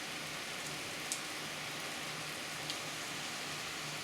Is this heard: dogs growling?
no